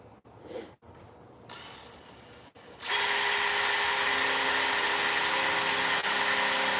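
A power drill spins a bit, bursting into a loud continuous whine after a few seconds of quiet handling noises and breaths, then running steadily to the end.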